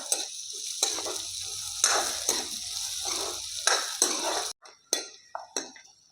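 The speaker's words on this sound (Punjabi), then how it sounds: "ਪਿਆਜ਼ ਨੂੰ ਵੀ ਆਪਾਂ ਹੁਣ ਭੁੰਨ ਲਾਂਗੇ" Chopped onion sizzles steadily in a hot pan while a spoon scrapes and stirs every second or so, with a few sharp metallic clinks and a low hum underneath, ending in quieter, broken stirring taps; a dish of radish leaves is being cooked.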